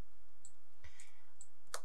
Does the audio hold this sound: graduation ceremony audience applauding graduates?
no